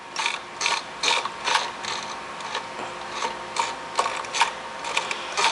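Handwheel of a vintage sewing machine being turned slowly by hand while sewing a 1946 Vogue dress, giving close, loud ratcheting clicks in uneven bursts with brief pauses between. No voices are heard.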